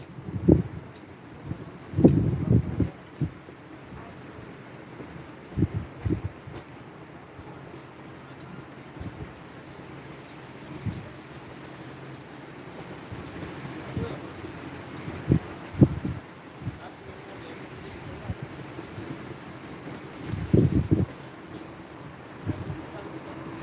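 Strong poyraz wind buffets the microphone in heavy, irregular gusts and rumbles during a wildfire in Antalya, with a person talking intermittently underneath.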